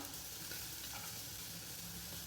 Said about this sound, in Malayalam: അരിഞ്ഞു വെച്ചിരിക്കുന്ന പച്ചക്കറി ചേർത്ത് കൊടുക്കാം